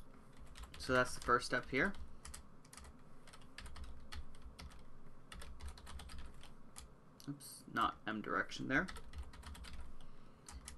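Rapid clicking of computer keyboard keys in bursts while writing code for a component-based game architecture, with someone talking over the typing at intervals.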